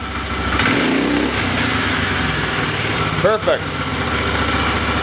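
A Polaris Sportsman 500 ATV engine idles steadily close by after a backfire and bog-down fix, a continuous even rumble under a brief spoken word.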